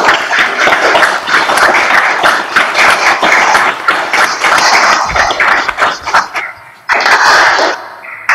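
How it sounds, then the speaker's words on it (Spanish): Sustained, dense applause from a courtroom audience honouring newly sworn lawyers at a Supreme Court swearing-in ceremony, loud and steady throughout with a brief dip before swelling again. "Aplaudamos vuestro logro."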